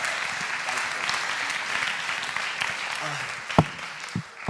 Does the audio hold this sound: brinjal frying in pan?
no